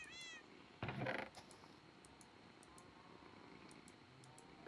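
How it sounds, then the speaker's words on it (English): A cat gives a short meow, then a louder burst of sound, followed by a long quiet stretch of faint purring in a calm indoor space. "another Fiji purring again"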